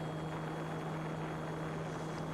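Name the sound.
Eachine E190S RC helicopter flying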